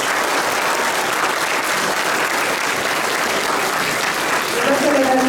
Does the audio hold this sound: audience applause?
yes